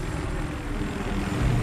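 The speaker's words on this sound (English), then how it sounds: "Is that our helicopter?" A helicopter flying in the video game Battlefield 3, a continuous broadband rotor and engine roar that holds steady and grows slightly stronger toward the end, with no speech.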